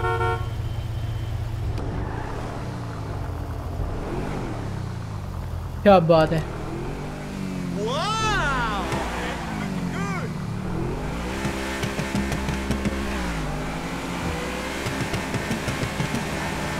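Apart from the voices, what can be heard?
Audi R8 convertible car driving in GTA 5 video game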